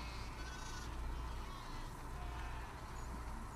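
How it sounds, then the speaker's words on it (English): Sheep bleating in The Last of Us Part II video game, faint and somewhat distant calls over a continuous low ambient rumble. "We definitely have way too many sheep."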